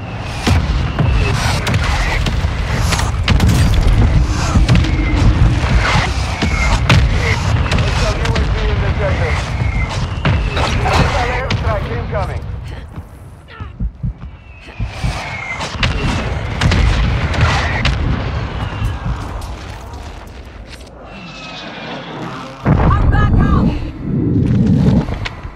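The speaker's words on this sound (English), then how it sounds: "Hostiles launch the mortar strike." Mortar strike explosions in Warzone 2 land as a string of heavy, booming blasts with rumbling tails, loud and close at first, then sparser, with a final burst near the end.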